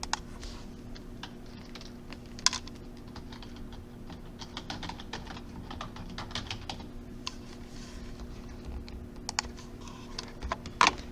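Someone types a search on a computer keyboard, a fairly quiet run of irregular key clicks with a few louder taps and pauses, over a low steady hum.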